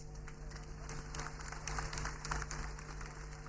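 Audience at a Nawaz Sharif political rally in Chitral applauding, a steady wash of clapping from a large crowd, loud and continuous throughout.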